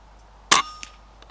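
An air rifle fires a single sharp, loud crack at a rabbit 50 yards away, followed by a faint metallic ring and a couple of soft ticks in otherwise quiet surroundings.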